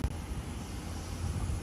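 Airplanes at Nagasaki Airport beside Omura Bay give off a steady, broad engine roar heard from an outdoor observation deck, distant and moderately loud with no speech.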